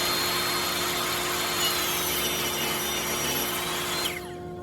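Table saw with a sled cutting a small section off a wood lamination blank, a loud steady whining cut that runs continuously for about four seconds, then drops away as the blade clears the wood and keeps spinning.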